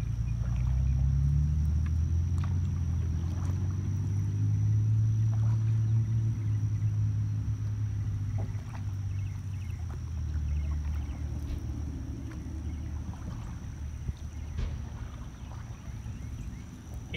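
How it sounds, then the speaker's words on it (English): A canoe moving across water on an outdoor education canoe trip, with a steady low wash of water and faint paddle strokes dipping in, close and continuous with no talk. "Don't forget, switch your paddles to either side of your boat."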